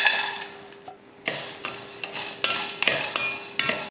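Whole spices dry roasting in a pan for masala tea powder, stirred with repeated scraping strokes and light rattling against the metal, close and fairly steady.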